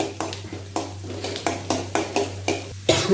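A spoon scrapes and clinks rhythmically in a hot pan while mustard seeds and lentils are stirred for tomato rice, about eight close, evenly spaced strokes over a faint steady hum.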